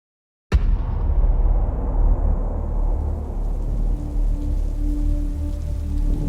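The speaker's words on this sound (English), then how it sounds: "it's now raining for the first time" Heavy rain in a video game starts abruptly after a moment of silence and keeps pouring as a loud, dense, steady hiss, with a faint low tone later.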